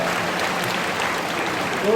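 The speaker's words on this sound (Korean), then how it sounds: "박수 부탁드리겠습니다" An audience applauds at a high school admissions information session, a dense, steady burst of clapping from a crowd that fills the room, with voices mixed underneath.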